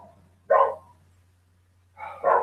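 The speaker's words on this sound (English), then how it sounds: "You can hear the happy puppies in the background" A few sharp, high-pitched yips from small dogs, one short burst followed by a pause and then two more, over a low steady hum.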